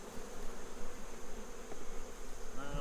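Dense, steady buzzing of honeybees swarming close around an opened hive in late September, a continuous droning hum with no one speaking.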